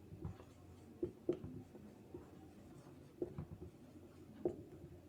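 Chalk or marker tapping and scraping on a lecture board, a handful of sparse, quiet strokes at irregular intervals, close by with no speech.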